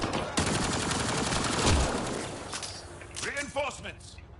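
Squadmates fire on an enemy in Mass Effect: Andromeda, a dense burst of rapid automatic gunfire that fades into scattered shots and electronic whooshing effects, with a voice talking over it.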